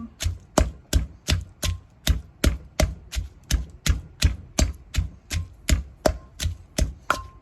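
A pestle pounds green papaya salad in a mortar, producing about twenty steady, evenly spaced thuds, loud and close, with no talk.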